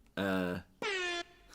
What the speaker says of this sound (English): the essentials of an air horn.